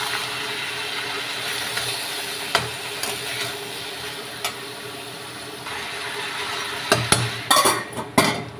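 Bottle gourd tipped into a pan of fried garlic and chilli and stirred, with soft scraping and light sizzle under a low hum, then a cluster of sharper clinks and knocks of the spoon against the pan near the end.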